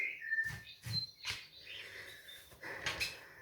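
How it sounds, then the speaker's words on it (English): A recording of birds singing plays, with bright chirps and short trilling calls from several birds, moderately close, in quick bursts with brief pauses between them. "I've actually got a YouTube on of an audio clip of some birds singing"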